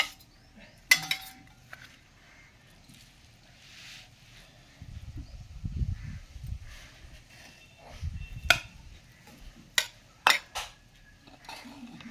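Rice is spooned into a lunch box while packing a carrier meal with cauliflower tomato curry. Soft scoops and low thuds mix with sharp metallic clinks of a spoon against the container, loose and irregular, close up.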